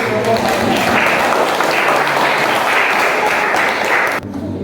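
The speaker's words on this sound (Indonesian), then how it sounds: "Tepuk tangan" Classroom applause from a group of students, dense steady clapping that fills the space for about four seconds before cutting off abruptly near the end.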